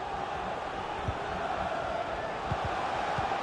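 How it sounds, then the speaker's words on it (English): Dense stadium crowd noise from a FIFA 22 match on Xbox Series X, Arsenal against Spurs in an FA Cup final, a steady roar with a few low thumps and swells throughout. "The crowd certainly think so. Just listen to them."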